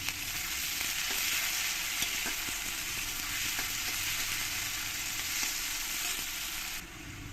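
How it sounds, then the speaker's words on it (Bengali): Onions frying in hot oil, an even, close and continuous sizzle with faint clicks of stirring throughout, no voices. "দেখো পেঁয়াজগুলো আমি ভালো করে লাল লাল করে ভেজে নিয়েছি।"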